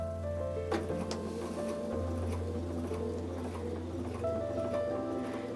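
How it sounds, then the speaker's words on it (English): A sewing machine runs steadily while stitching along the top edge of a fabric face mask, a continuous low motor hum with a faint rhythmic needle patter, close by and with no talk. "So I'm now sewing along the top part of the mask, which goes over the nose"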